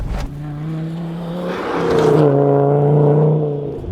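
A Volvo S60 Recce rally car once driven by Colin McRae roars close by, its engine note holding steady, dropping on a gear change, then climbing again in a strong, rising rev with no talk.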